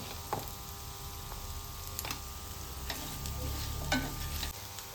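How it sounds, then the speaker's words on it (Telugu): Ginger garlic paste and a spoonful of turmeric frying in oil while being stirred for a broccoli curry, giving a steady low sizzle with occasional scraping taps of the spoon against the pan, no voices. "ఇది పచ్చి వాసన పోయేంత వరకు కలుపుతూ ఉండాలి."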